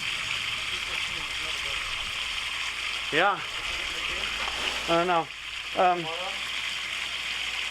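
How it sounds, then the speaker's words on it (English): Water runs steadily from a hose onto an outboard boat motor during a workshop flush, a continuous broadband wash heard throughout while people talk briefly over it. "turn off the water"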